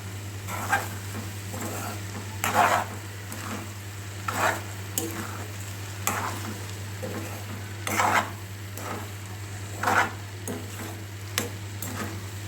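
Okra frying with green chili in a pan, a low continuous sizzle broken by regular scraping strokes of a spatula roughly every second or two, with a steady low electrical hum beneath.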